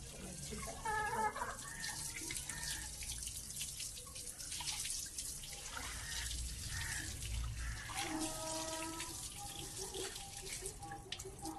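Running water splashes and drips steadily while a cooking area is washed down in a village home, close and continuous with no talk.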